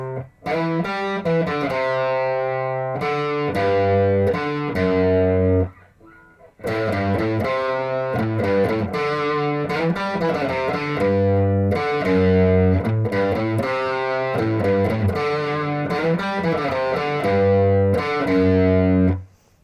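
Distorted electric guitar playing the repeated chugging riff of a rock song, loud and close, pausing briefly once before the pattern resumes.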